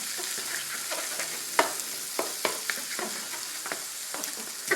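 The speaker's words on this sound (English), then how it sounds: "And I'm going to scramble them with the veggies." Eggs being scrambled with vegetables in a hot pan: a continuous sizzle broken by a series of sharp spatula scrapes and taps, close and fairly loud, with no voices.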